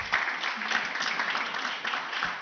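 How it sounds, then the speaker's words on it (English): An audience at a season-finale award session claps for the competing teams, with a dense, steady wash of applause from many hands lasting the whole moment, fairly near and even in loudness. "Can you clap for all the teams that came?"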